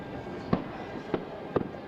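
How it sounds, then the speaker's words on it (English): Fourth of July fireworks bursting outdoors: three separate sharp booms spaced about half a second apart over a low steady background rumble, moderately loud and fairly distant. "Vibrant 4th of July fireworks."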